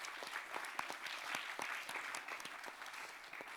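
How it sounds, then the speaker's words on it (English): An audience claps for the closing panel of a science diplomacy forum, dense steady applause from a sizable crowd lasting several seconds at moderate volume. "A round of applause for our final panel."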